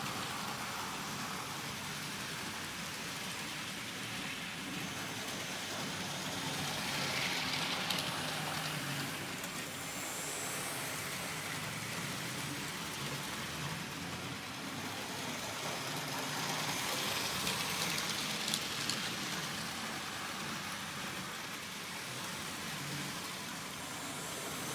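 A model railway train pulling three passenger carriages runs steadily around its track, producing a continuous low rumble and rattle with gentle swells in loudness as it passes nearer.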